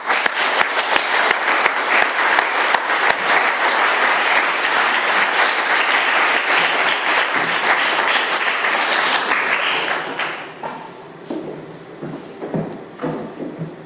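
An audience at a talk in Doylestown, PA, applauds the speaker with loud, dense clapping for about ten seconds, which then thins to scattered claps.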